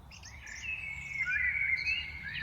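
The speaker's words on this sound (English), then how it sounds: "So this is a mix of birds, you know. There are various species of birds." Birds of several species sing in a New Jersey park, with clear high chirps and warbling whistles overlapping close by against a quiet outdoor background.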